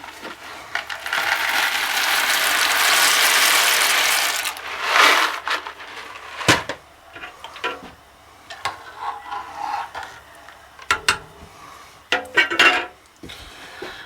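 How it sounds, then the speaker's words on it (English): Dry small shell pasta poured into a pot of boiling salted water, a loud rattling rush of pasta hitting the pot, followed by scattered clinks, knocks and stirring scrapes. "Now that our salted water is starting to boil, we're going to add 8 ounces of pasta."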